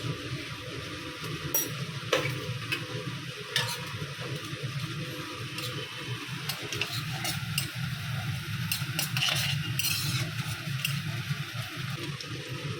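Radhuni spice seeds fry in hot oil in a pan for a pumpkin dish, a soft, continuous crackle and sizzle with occasional scraping stirs and clicks. The sound is moderately close and has no talk.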